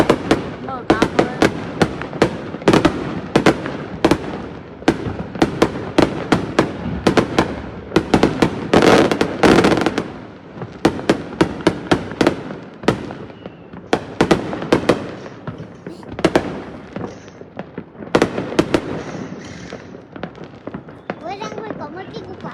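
Fireworks burst repeatedly over the sea at a New Year countdown at midnight, loud sharp cracks and booms firing in rapid irregular volleys, with people talking and exclaiming throughout.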